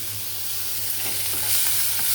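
Curry leaves, coriander and mint fry in hot tempering oil, giving a steady close sizzle with faint stirring, continuous throughout with no voices.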